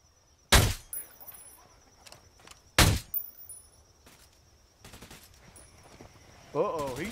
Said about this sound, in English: Uh-oh, he's shooting back.